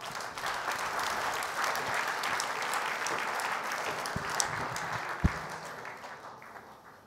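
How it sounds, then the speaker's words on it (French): An awards gala audience applauds in a full, continuous wash of clapping, with a few sharper claps near the end before it fades out. "Merci, on peut encore les applaudir une fois."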